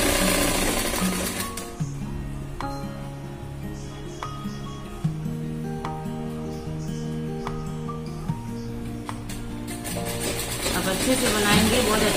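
Sewing machine stitching a kurti, running in a continuous mechanical whir at close range, with some tonal background sound running throughout and no clear speech.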